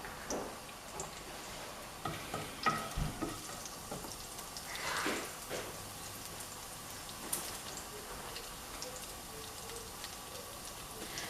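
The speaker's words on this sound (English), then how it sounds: "So when the oil is little bit hot, You have to add the cumin seeds, that is jeera." Cumin seeds sizzle and crackle in hot oil in a home kitchen as dum aloo is prepared, a soft steady frying hiss broken by faint pops and stirring scrapes, with no voices.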